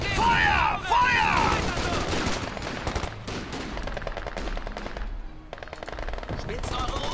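Rapid machine-gun fire in the video game Company of Heroes 2 rattles continuously with scattered gunshots, while voices shout in German over the combat noise.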